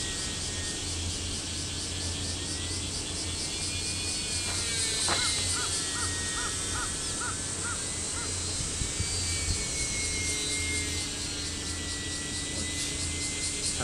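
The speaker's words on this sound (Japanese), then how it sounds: "びっくりした、今鳥が飛んできた。" A bird flies in close and lets out a few harsh caws over a steady engine-like drone outdoors, the calls brief and fairly loud against the constant background.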